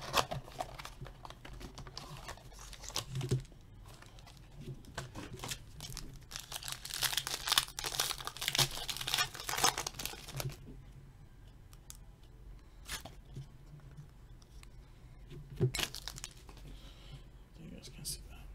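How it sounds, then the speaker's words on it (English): Panini Signatures basketball card packs torn open by hand, with bursts of crinkling foil wrapper and ripping that come and go between quieter pauses, plus a few sharp handling clicks; softly close and fairly quiet throughout. "I'll rip open all those Kobe packs."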